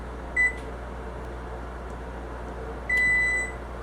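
A kitchen oven's control panel being set to 170 degrees gives two short electronic beeps, the second held longer, over a steady low appliance hum with no talking.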